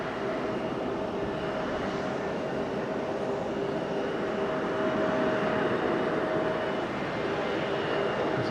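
A Peach Aviation airliner comes in to land at Fukuoka Airport, a steady broad engine roar at moderate distance that swells slightly toward the end.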